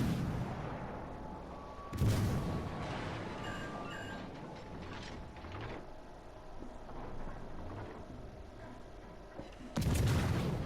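Two heavy naval gun salvos boom out in World of Warships Legends, about eight seconds apart, each a loud broadband blast. A quieter rumbling battle ambience fills the space between them.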